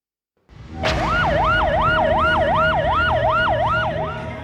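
Loud ambulance siren starts abruptly and wails in regular rising-and-falling sweeps, about eight cycles, close by and alone with no talk over it.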